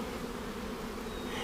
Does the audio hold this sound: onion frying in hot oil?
no